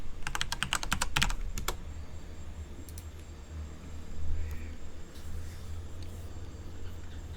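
Typing on a computer keyboard, a quick flurry of close key clicks at the start and a few scattered taps later, faint low rumble behind, no talk.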